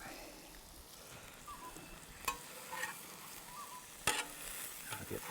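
Bacon sizzling on hot campfire coals, a soft steady frying hiss with a couple of sharp crackles and pops, no talk.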